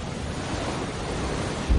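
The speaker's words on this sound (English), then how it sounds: "The hurricane's sheer wind power drives waves from far out at sea, increasing the high tide by as much as 20 feet." Ocean waves whipped up by hurricane winds during a storm surge roar as a dense, steady wash of surf and wind noise that holds constant throughout, with no voices.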